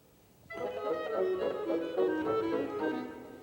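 Orchestral winds from Holst's The Planets enter after a brief quiet moment: a clarinet line in 6/8 set against bassoons moving in 3/4, the layered rhythms swelling together at moderate volume without talk.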